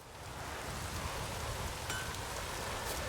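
Steady rainfall in the video game The Witcher 3: Wild Hunt, a continuous broadband hiss of drops on surfaces with a faint wind-like wash, even and unbroken, no voices.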